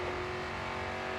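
A race car engine in the GRID 2 driving game, a steady loud drone with a sustained high tone, close and unbroken for a moment.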